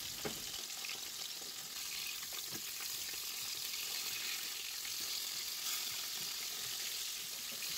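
Fish cutlets frying in a pan of oil, a quiet continuous sizzle with small pops and crackles throughout, steady and unbroken.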